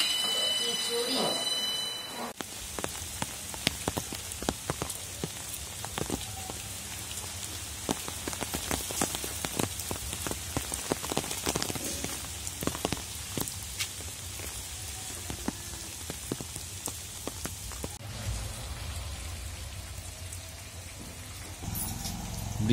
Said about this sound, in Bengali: এখন চারিদিক কেউ কোথাও নেই, শুধু বৃষ্টির শব্দ